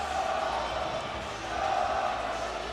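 Home crowd of Blue Streak ice hockey fans at a high school boys' Division 1 Section II final, Bethlehem Central, booing and roaring in protest of a referee's call, a steady loud arena-wide din lasting throughout.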